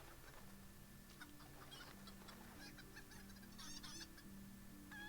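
Clucking chicken calls in a video game during chicken quests, two overlapping call sounds repeating in short bursts over a steady low droning game background.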